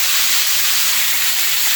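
Deer meat frying on high heat gives a steady, close sizzling hiss that stays even throughout, with no talking.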